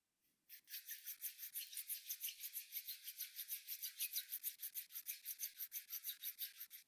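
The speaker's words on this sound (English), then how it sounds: "Again, rub your palm." Hands rubbed briskly palm against palm during a yoga class, a steady run of dry rasping strokes in quick rhythm, close and clear with no talking.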